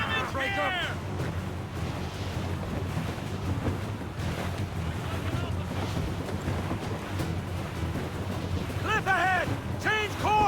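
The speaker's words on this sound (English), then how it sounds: "They're firing, sir!" Ship cannon volleys in Assassin's Creed Rogue during a naval battle, with heavy booms rolling over constant wind and ocean surf. Shouted voices break in at the start and near the end.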